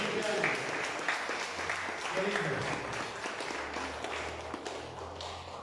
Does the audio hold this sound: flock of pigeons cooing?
no